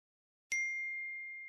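A single bright phone message notification ding strikes sharply after a moment of silence, then rings out as a clean sustained tone that slowly fades, close and alone.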